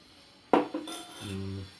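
A metal spoon clinks against a glass bowl while sabja seeds are added for a summer drink: one bright strike, a second lighter tap, then a short ringing tone fading quietly.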